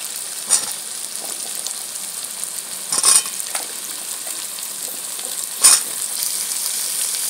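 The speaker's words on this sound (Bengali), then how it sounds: "এবার পেঁয়াজ আর আলুটাকে একটু ব্রাউন করে ভেজে দেবো" Onion and potato fry together in a pan with a steady, moderate sizzle, broken by three brief louder stirring scrapes spaced a few seconds apart.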